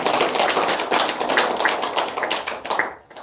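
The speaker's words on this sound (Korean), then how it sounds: "박수 한번 해줘봐요." A church congregation at a Sunday worship service claps together in a brisk burst of many hands, loud and close, fading out abruptly after about three seconds.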